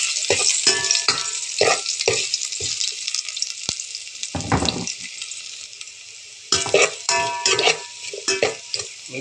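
Chopped garlic and ginger sizzle in hot oil in a pan while mussels are being cooked, with bursts of frying and the clatter of a spatula stirring against the pan, close and loud.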